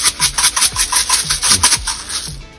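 Rapid, rhythmic scratchy grinding of black pepper from a grinder over a pork leg being prepared for air-fried crispy pata, about a dozen quick gritty twists, close and fairly loud.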